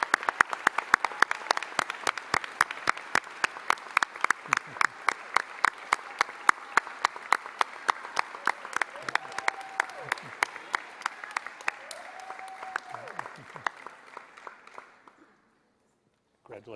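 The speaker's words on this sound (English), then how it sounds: "everyone, please join me in a round of applause to congratulate these students on their outstanding accomplishments" Audience applause for award-winning students at a senior showcase ceremony, a long sustained round of clapping with sharp individual claps standing out, fading out near the end.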